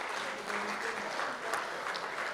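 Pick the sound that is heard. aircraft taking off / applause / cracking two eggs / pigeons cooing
applause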